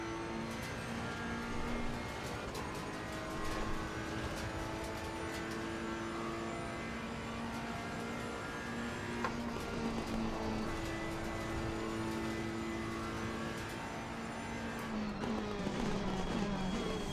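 A Porsche race car engine in Assetto Corsa Competizione, a steady near drone with sustained tones that hold and shift with the revs, plus other cars around it.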